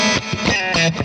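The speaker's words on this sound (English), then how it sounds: "a massive clean sound to begin with a swelling reverb sort of effect" A clean electric guitar played through an Axe-Fx patch with a swelling reverb effect sounds as a loud, sustained chord that blooms and washes out, with no voices.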